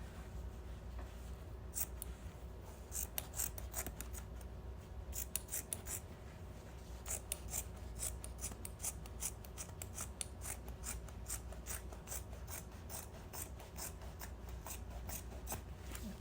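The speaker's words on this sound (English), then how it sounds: "when you cut it, you cut through the lines" Scissors snipping through fabric along marked lines while a strapless dress is cut out, a steady run of crisp, close cuts repeating throughout over faint background hiss.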